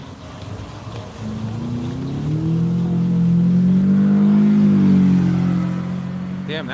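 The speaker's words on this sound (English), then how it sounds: "that's a Mazda with an angry sounding engine." A Mazda car with an angry-sounding engine revs nearby, its tone climbing and holding a strong, buzzing pitch for several seconds before easing off, loud and alone.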